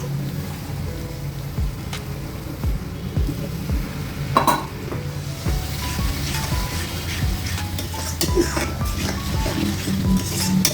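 Spiced masala for yogurt katla fish curry frying in a pan as a little water goes in, a close hiss and bubbling with a few clinks of a utensil against the pot and faint background noise.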